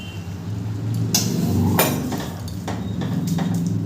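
Pineapple chutney with sugar being stirred in a metal pan: a few sharp clanks and scrapes of a spoon against the pan over a low, steady background hum, close and moderately loud.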